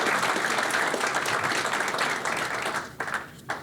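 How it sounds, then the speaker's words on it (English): An audience at a college football press conference introducing a new coach claps for the athletic director, dense steady applause filling the room for a few seconds before thinning out. "let's give Charles a round of applause here"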